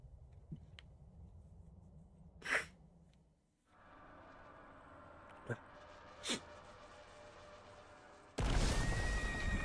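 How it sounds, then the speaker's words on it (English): A horse neighs in the video game Path to Nowhere, a short whinny against game effects and a low background, followed by sudden loud battle noise near the end. "She actually have a horse!"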